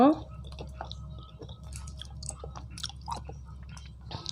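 Soft, wet chewing and small squishy bites come from someone eating yogurt mixed with dates and candied jujube, close to the mic. A voice speaks over the eating at times.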